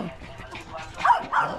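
A few short dog barks and yips, fairly close, mixed with background voices.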